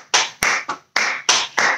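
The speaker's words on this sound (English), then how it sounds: "And we gotta clap our hands." Hands clapping along to a children's sing-along song, six sharp, close claps in a steady rhythm with short gaps between them.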